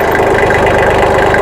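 A Kubota L225 tractor's diesel engine runs steadily near a hillside, a loud, continuous knocking rumble with a rapid low pulse and no talk over it.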